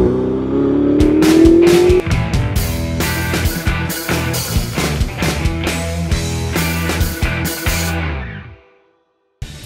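Ferrari 488 Spider twin-turbo engine on the move: a loud, close, rising roar that climbs in pitch, then a series of hard revving pulses and gear changes before cutting out abruptly near the end.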